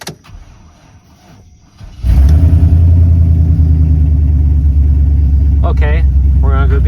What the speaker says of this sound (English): We're gonna see if this truck even starts.